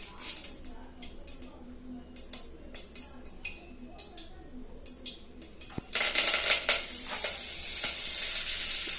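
Mustard seeds and curry leaves frying in hot oil in a village kitchen, a loud steady sizzle with spattering pops that swells sharply midway and keeps going, faint scattered clicks before it.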